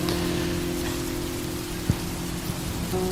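Rain falling while driving, a steady hiss of drops on the car under a low engine hum, with one brief knock partway through.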